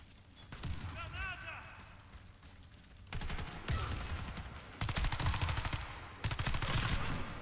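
Rapid bursts of Beretta MX4 Storm submachine gun fire in the online shooter Warface, with dense automatic volleys that grow louder and more sustained across several stretches, while someone talks underneath.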